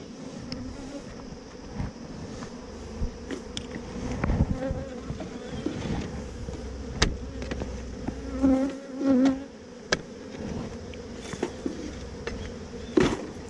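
Honey bees buzz steadily around a hive at a Texas beekeeping yard, a continuous layered drone with individual bees passing close now and then, rising and fading without any talking.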